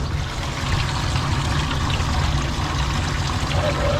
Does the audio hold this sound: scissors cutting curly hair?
no